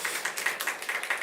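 A church audience at a sermon gathering claps in a quick, even rhythm, about a dozen sharp claps heard from a distance.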